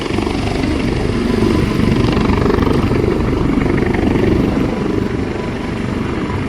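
A helicopter roars loudly and continuously, its rotor chop thudding close by with no voices.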